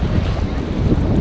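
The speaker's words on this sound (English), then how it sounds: "Tide's coming in. The ocean's cutting in." Ocean surf washing in at Popham Beach in Maine on an incoming tide, a steady loud roar of breaking and rushing water mixed with heavy wind buffeting the microphone, with no voices.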